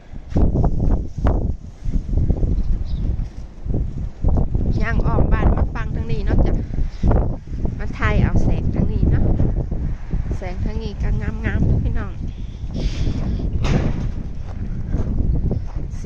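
Strong wind buffets the microphone in a snowless outdoor setting, a dense low rumble running steadily under someone talking almost continuously.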